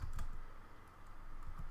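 Keys clatter in a steady run as a command is typed on a computer keyboard during a Linux LAMP stack install, close and fairly quiet, with no talk.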